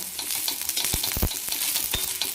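Ginger and garlic sizzle in a pan of roasted spice masala, with a steady close frying hiss and a few stirring knocks from a spoon. No one speaks.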